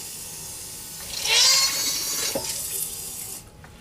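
A GM fuel pump from an '02 Camaro runs submerged in water, pushing a hissing, splashing spray out of a tiny bypass fitting for about two seconds before cutting off.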